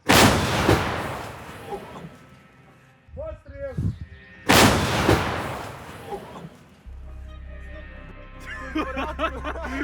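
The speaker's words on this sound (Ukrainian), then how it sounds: "Гармата!" Two heavy, loud booms from a Russian 2S19 Msta-S 152 mm self-propelled howitzer firing, a few seconds apart, with people talking and chuckling in the pauses between.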